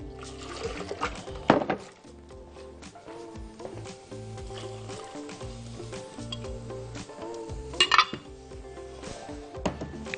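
Water is poured into a pot holding tomatoes and vinegar for Egyptian koshari pickled tomatoes. A trickling pour runs through the clip with clinks of metal cookware and louder knocks of the pot near the start and near the end.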